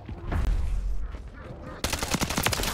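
Rapid automatic gunfire from shooting zombies in Call of Duty: Modern Warfare 3, a loud, dense burst of cracking shots that begins partway through and runs to the end, following a stretch of rumbling in-game action.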